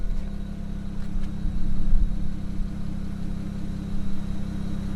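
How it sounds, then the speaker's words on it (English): A BMW N54 engine fitted with a VRSF 3-inch downpipe exhaust idles steadily during warm-up after sitting overnight, a loud, continuous low rumble with a slight swell in the middle and no talk. "I'm going to let the car warm up."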